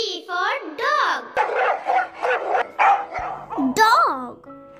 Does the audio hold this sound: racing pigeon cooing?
no